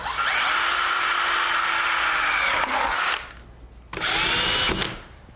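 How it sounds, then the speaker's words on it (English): A power drill bores a mounting hole into a ceiling for track lighting, running loud and steady for about three seconds, pausing briefly, then whirring again in a second short burst. "So all I need to do is drill another hole at this end to mount it to the ceiling."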